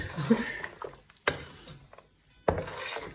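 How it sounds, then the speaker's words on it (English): A yogurt curry is stirred in a pan with a spoon, producing intermittent scraping and a few sharp knocks against the pan's side, with soft bubbling in between. "So we have to now really stir it very well."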